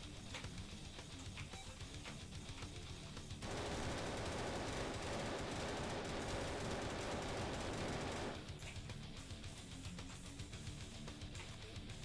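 Rapid automatic gunfire from the video game Wet Work, a magazine being emptied as a dense, continuous burst of shots that swells louder in the middle before dropping back to a steadier background of firing.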